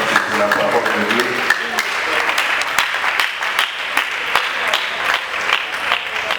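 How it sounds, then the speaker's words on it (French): A congregation at a funeral service applauds after a scripture reading, steady claps from a crowd in a room, loud and sustained, with voices mixed in under the clapping. "Est-ce que vous pouvez acclamer pour cette parole?"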